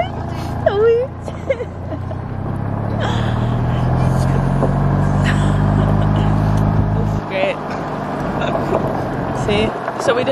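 A low, steady motor hum and rumble of a moving golf cart carry through the middle of the ride, with gasps and excited voices of passengers over it.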